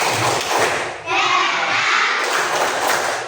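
Children clap and chant together in a loud, rhythmic burst, their voices and claps filling the room briefly.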